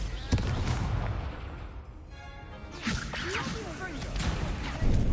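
Confringo fire spell blasts in the Hogwarts Legacy video game: a few sharp, booming bursts with whooshing tails, loud and close over busy game ambience.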